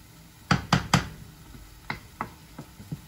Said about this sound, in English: You saute the onion with the sumac and oil until it becomes soft.